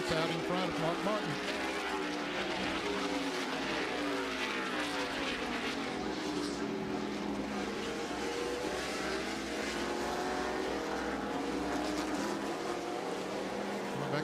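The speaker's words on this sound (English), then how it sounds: "Got about 3 car lengths out in front of Mark Martin" Race cars at the Sears Point road course in 1999 roar past as a continuous, loud engine drone lasting the whole stretch, with a race commentator talking over it.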